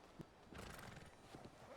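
Horse hooves clip-clopping with a whinny in a video game, faint and somewhat muffled, with a few sharp hoof impacts over a low background rumble.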